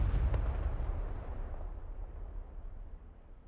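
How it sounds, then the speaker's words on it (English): Explosions destroying ground units in the DCS flight simulator game: a heavy, rumbling blast that booms loudly at first and then slowly decays into a long, fading roar, with no voices. "there's an explosion all over the place. It's killed them all."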